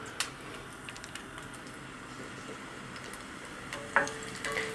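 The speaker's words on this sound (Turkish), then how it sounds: "Sarımsağımızı kavuruyoruz." Garlic cloves sauté in a pan for a pilaf with meatballs, giving a steady soft sizzle with occasional clicks and taps of a utensil.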